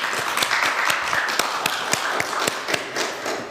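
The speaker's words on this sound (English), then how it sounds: "let's give him a round of applause" An indoor audience applauds a police officer at an active shooter training session, with dense, steady clapping and sharper individual claps standing out throughout.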